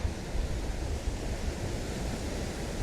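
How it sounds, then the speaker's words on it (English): Sea waves crash against the cliffs at Hedbury Point on the Isle of Purbeck, a dense, continuous roar of surf mixed with wind buffeting the microphone, with no one speaking. "Just the waves beating down through there."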